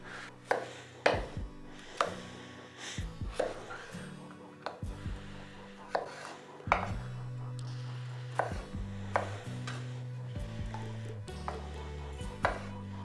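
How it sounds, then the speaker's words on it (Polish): Steady knife chops through potatoes into small cubes on a cutting board, sharp repeated thuds in an irregular rhythm, close up, with faint kitchen clatter and occasional quiet talk. "Ziemniaki będę kroił Niewielką kostkę, taką jak do zupy."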